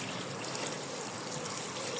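A garden hose sprays water steadily and close by, a continuous hissing rush with no talk over it, used while cleaning a car hubcap outdoors.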